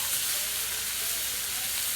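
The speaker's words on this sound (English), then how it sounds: "let that fry up" Food fries steadily on a hot hibachi griddle with sesame oil, a bright, even sizzle and hiss, close and continuous with no talk.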